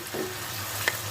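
Whole red chillies and spices crackle and sizzle in hot oil for a tadka, a steady hiss with a brief sharp pop, no voices.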